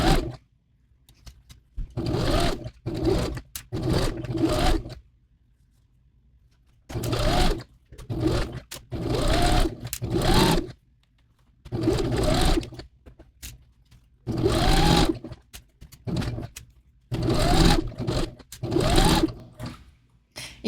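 A sewing machine stitching a hem with a twin needle runs in loud, close bursts of rapid whirring, several stretches of a few seconds each separated by quiet pauses.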